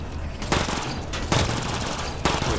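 Bursts of rapid automatic gunfire in Mass Effect Andromeda, three dense volleys close and loud with brief gaps between.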